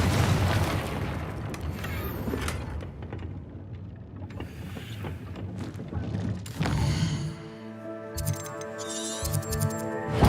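A Confringo fire spell bursts in Hogwarts Legacy: scattered booming impacts, then a sharp blast that gives way to ringing magical tones, heard alone without talk.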